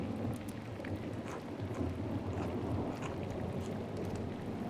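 Steady, dense rainfall in the video game Pentiment patters continuously at close range, a constant wash of drops with a low rumble underneath and no voices.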